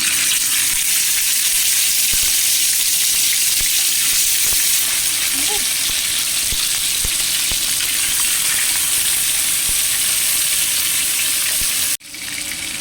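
Chicken pieces fry in hot oil with a loud, steady crackling sizzle close by, broken by a few sharp pops and ending abruptly as the sound drops near the end.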